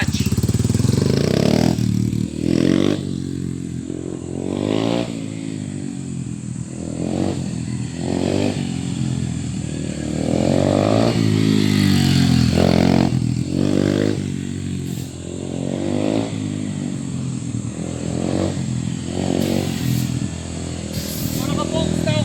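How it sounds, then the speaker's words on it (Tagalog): A motorcycle engine brakes in first gear with the clutch released, giving repeated revving swells and drops in engine pitch. Someone talks at intervals over the close engine noise. "First gear of throttle, engine brake."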